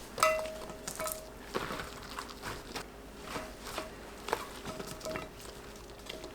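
Eggplant, onion and chili pepper pieces are layered into a container, giving soft, faint patters and light clinks near at hand, with small tapping contacts spread unevenly across a quiet room.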